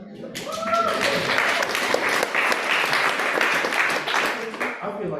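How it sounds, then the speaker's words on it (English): An audience at a startup grants info session breaks into sustained applause, dense clapping that swells and holds, with a voice briefly audible at the start and end. "Y'all are applauding all the time."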